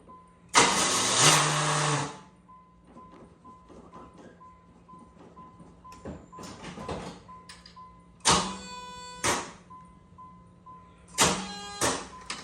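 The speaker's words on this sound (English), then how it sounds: "That's the starter." A Pontiac Fiero's starter motor cranks the engine in a few separate bursts, loud and close, with quieter gaps between the tries.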